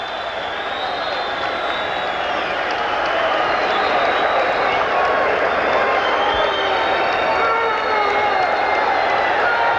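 A boxing arena crowd roaring and cheering at the end of a fight, a sustained wall of noise with scattered clapping, while commentators talk over it.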